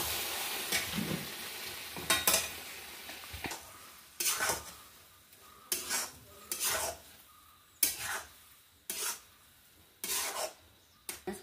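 Potato masala curry is stirred in a pan, its steady faint sizzle broken by about nine sharp scraping strokes of a spoon against the metal at a slow, irregular rhythm.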